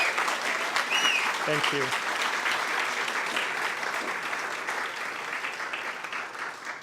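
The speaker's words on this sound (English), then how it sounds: "if you could give them a round of applause" Audience applause at the Nonprofit Association of Oregon annual meeting for the NAO team, a steady broad clapping from a full room that carries throughout and slowly thins, with a brief spoken thanks near the start.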